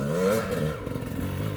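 A KX450X dirt bike engine lugs up a hillclimb at low revs, a steady throaty drone with rattling, uneven pulses, fairly close.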